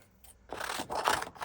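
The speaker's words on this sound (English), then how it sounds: "use me big scissors to cut out my little tiles." Big scissors snip through paper while cutting out small tile shapes for card-making flowers, a brief quiet pause then a close, steady rasping cut of about a second, with no talking.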